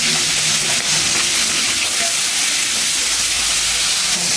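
Prawns frying in hot oil in a wok (kadai), a loud, steady hissing sizzle that holds evenly throughout at close range, with no voice heard.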